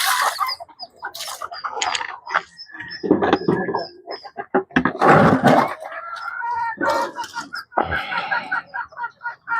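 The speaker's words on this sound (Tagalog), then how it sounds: "Kumatong na yung isang manok." Bantam chickens clucking and calling in a backyard coop, irregular short bursts near and moderately loud, with people talking in Filipino around them and occasional rustling and clatter.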